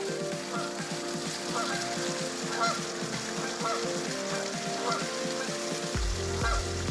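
Geese honk repeatedly at a rainy campsite, a steady run of harsh calls over the hiss of falling rain.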